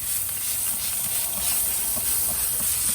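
Liquid spritz is misted onto racks of baby back ribs smoking on a Big Green Egg kamado smoker at the 2.5-hour mark. A continuous close hiss of spray and sizzle runs steadily throughout.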